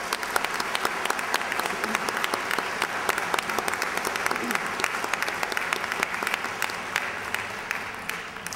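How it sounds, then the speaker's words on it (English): Audience applause at a graduation ceremony, dense sustained clapping from a large crowd lasting the whole stretch and tapering slightly at the end. "Let's give these folks a round of applause."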